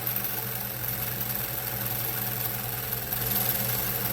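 A 1950s German Pfaff 130 sewing machine runs at full speed, producing a steady, even mechanical hum and fast rhythmic whir with faint vibration, quiet and unbroken, no talk.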